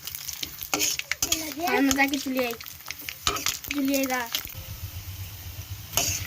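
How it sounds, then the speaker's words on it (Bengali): Potato chips frying in a pan give a busy sizzle under the excited voices of children talking, with a few brief utensil knocks. "রাফিউল দেখো কত সুন্দর করে চিপস ভাজছে"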